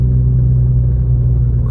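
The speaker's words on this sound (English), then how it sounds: "Look at all this traffic" A low, steady rumble of car engines and road noise sits close by in traffic in Big Bear, California, with no talk.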